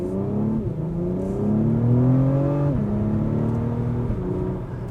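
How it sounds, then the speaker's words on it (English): A loud, close Acura TLX Type S engine revs up with rising tones from its valved exhaust, shifting gears once before climbing again on a country road. "you can hear the exhaust more when you're in Sport and Sport Plus because it's valved"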